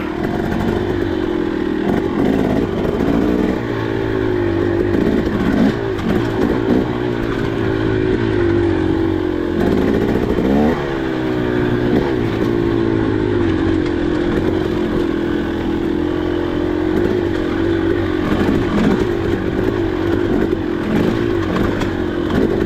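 A 2023 KTM 300XC two-stroke enduro bike descends a choppy, rocky trail at Peach Valley. The loud engine drones and revs without letup, with rattling and clatter from the rough ground, heard close throughout.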